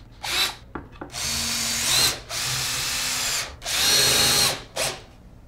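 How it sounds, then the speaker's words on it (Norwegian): Power drill driving screws into wooden planks while assembling a headboard, several loud whirring bursts of a few seconds each with short pauses between, close up and without talk. "Da setter jeg inn noen skruer først, sånn at jeg senere slipper å holde både skrue og planke."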